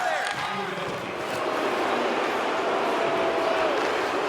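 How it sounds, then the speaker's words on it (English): A hockey home crowd jeers and roars at an opposing player, a loud sustained arena din with rising intensity and a faint whistle-like tone through it. "Dzingle's really hearing it from the home crowd right now."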